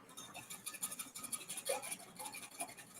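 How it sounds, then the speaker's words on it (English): Milk, egg and salt being whisked together in a measuring cup, a steady run of quick, close scraping strokes with a light rhythmic rattle, no talk. "I'm doing my milk and egg and salt into the measuring cup. And I'm going to whisk it up."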